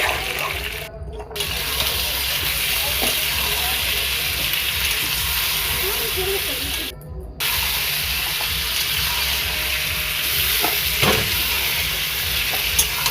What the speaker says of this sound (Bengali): তো চিকেনগুলো এখন আমি ভালো করে ভেজে নিতে হবে, তো ভালো করে ভেজে নিব।